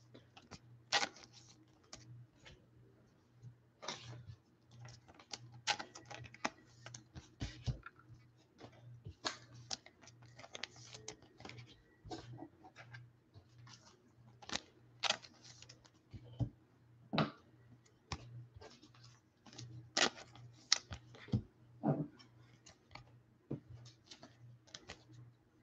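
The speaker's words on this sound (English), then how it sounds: "we'll sleeve up these cards I got right here" Baseball cards from 2021 Donruss blaster and hanger packs slid into plastic sleeves, a scattered series of light clicks, taps and plastic rustles, close and quiet, with no talking.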